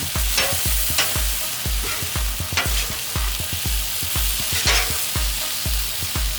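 Beef stir-frying on a Hunsaker griddle set over a Weber Smokey Mountain, loud steady sizzle under a quick regular run of spatula scrapes and taps against the metal, close up, with no talking.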